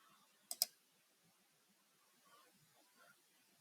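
Two quick computer mouse clicks in close succession, crisp and close, followed by near silence with only faint low room noise.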